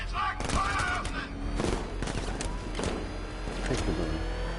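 Gunfire rakes a car in the video game Batman Arkham Knight, a dense, loud stream of rapid shots and booms under brief voice chatter.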